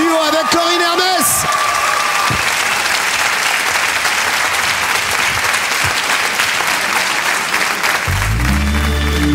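Loud, sustained applause with cheering from a concert audience welcoming two singers for a duet, opening under a speaking voice and closing as music begins.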